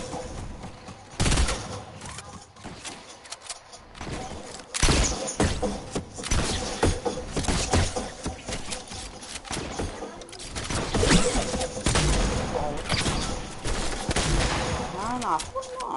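Gunfire rattles through a firefight in The Last of Us, loud bursts and rapid shots recurring throughout amid game noise, with voices talking over the action.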